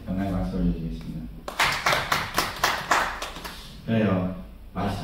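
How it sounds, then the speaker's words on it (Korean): Congregation clapping during a Sunday morning church service, a rhythmic burst of hand claps lasting a few seconds, framed by someone speaking before and after. "하나님께 다시 영광의 박수 올려드리겠습니다"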